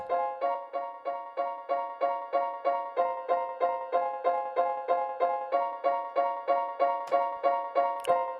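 A percussive synth lead repeats a steady pulsing pattern of short plucked notes, roughly three per second, each shaped by a Logic enveloper with delay tails trailing behind, close and even in level with no one talking.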